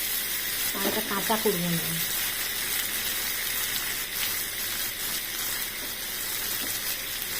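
Shrimp sizzle steadily in a frying pan, a dense crackling hiss running throughout while someone speaks briefly near the start.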